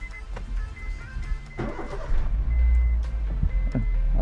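A Honda City 1.5 engine, just fitted with a new timing belt and tensor, cranks briefly and then catches, settling into a steady, close low idle rumble with no talking.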